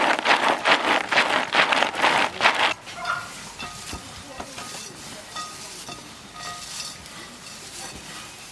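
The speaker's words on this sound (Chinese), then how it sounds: "倒到芝麻花生仁里拌均匀" Sunflower seeds, sesame and peanuts are stirred in a bowl, a dry rhythmic scraping and rustling, loud in bursts at first, then quieter clinks and shuffling.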